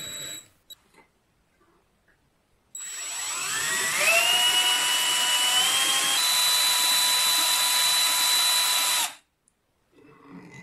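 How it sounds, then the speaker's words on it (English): A power drill whirs up to speed and runs steadily for several seconds, loud and close, with a grinding churn beneath the motor as it mixes cement, then stops abruptly. "Insert the stick into a drill and mix the mixture until smooth."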